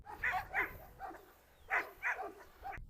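A dog named Pusad barks repeatedly outdoors, short sharp barks in two clusters separated by a brief pause, close and moderately loud, with no talk.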